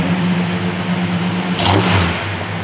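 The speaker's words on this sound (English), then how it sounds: "Give it a couple of revs there, Alex." An old Cadillac engine idles on a cold start, rough and steady, then blips once in a short rev and settles back to idle, close and loud.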